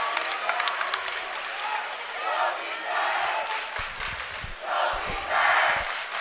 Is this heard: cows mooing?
no